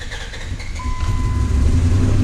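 A rough, low Dodge 4.7 engine that has jumped timing and has no oil pressure drones steadily up close, with a faint whining tone riding over the rumble; nobody speaks.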